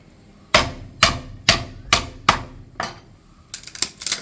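A hard coconut shell is struck to break it for making a ladle: six sharp, evenly spaced knocks, then a quick cluster of lighter raps, loud and close.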